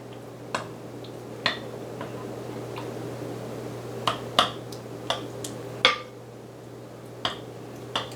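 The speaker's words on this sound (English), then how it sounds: "now we're going to just stir it all up" Baked beans with spices are stirred in a pot, giving sparse, light clinks and taps of a utensil against the pot about every second over a steady low hum, close and fairly quiet.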